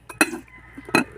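Metal cookware knocked and handled in a home kitchen, two sharp clanks about three-quarters of a second apart with lighter rattles between, close and fairly quiet.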